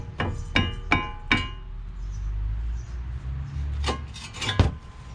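A hammer tapping a rusted front brake caliper on a 2018 Mazda 3, four sharp metallic clanks in quick succession, a pause, then a few more close, ringing knocks.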